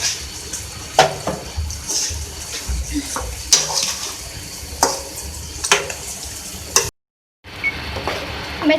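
Marinated chicken being stirred and mixed with tomato masala in a pan, wet scraping and gentle sizzling with repeated spoon clanks against the pan, close and fairly loud, with a brief cut near the end.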